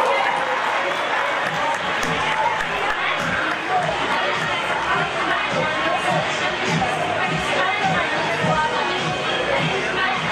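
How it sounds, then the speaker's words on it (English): A graduation fashion show fundraiser audience applauds and cheers for a senior student, a dense, steady wash of clapping and crowd noise lasting throughout at consistent loudness. "Give her a round of applause, folks."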